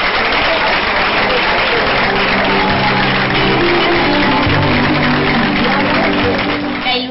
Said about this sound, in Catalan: ens despedim a este fort aplaudiment